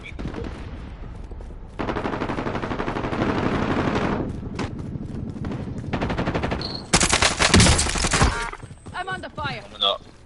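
Loud automatic gunfire from a video game shooter, with long rapid bursts separated by brief pauses and a sharper, denser volley near the end, heard close with little else.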